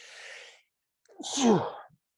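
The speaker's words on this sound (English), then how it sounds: "Oh, I'm going to sneeze." A brief breathy inhale followed by a single sharp, close sneeze, then quiet.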